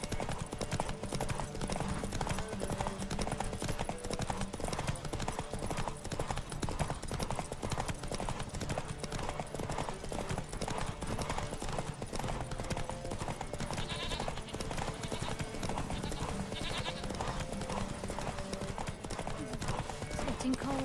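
Steady horse hooves clip-clop in a quick, continuous rhythm in the video game The Witcher 3: Wild Hunt, with a faint whinny and other animal calls mixed in under a voice.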